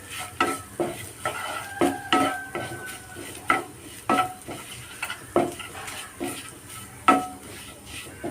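Eggs scrambled with chapati pieces in a pan: a spatula knocks and scrapes against the pan in an uneven rhythm over a light sizzle of frying, close and clear, with no voices.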